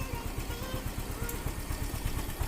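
A Yamaha Mio Soul i 125 scooter idles steadily with a fast, even low thumping pulse, the drive belt ticking against the crankcase, heard close up and alone with no talking.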